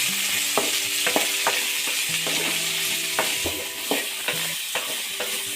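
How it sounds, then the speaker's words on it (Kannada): Okra frying in a pan with cumin seeds, a steady close sizzle under repeated scraping and stirring strokes of a spatula, with no talk. "ಜೀರಿಗೆ ಸಿಡಿಯುವಾಗ ಬೆಂಡೆಕಾಯಿ ಹಾಕಿ ನೀಟಾಗಿ ಹುರ್ಕೊಳ್ಳಿ."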